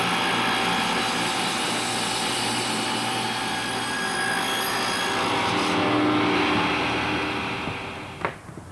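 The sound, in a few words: table saw cutting wood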